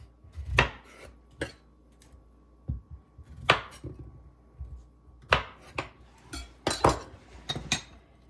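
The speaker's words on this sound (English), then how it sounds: "For our squash, just cut the ends off." A knife chops through a squash on a cutting board, with scattered sharp knocks and clinks spaced irregularly, close and fairly quiet in an otherwise still kitchen.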